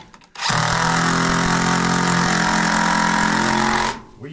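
Power drill driving a 2.5-inch exterior wood screw into a wooden floor band in a mobile home repair, a single loud continuous whirring burst of about three and a half seconds, close by and heard alone.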